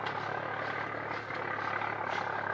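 A tractor engine drones steadily at a moderate distance, with a low, even hum that does not clearly fade within the stretch.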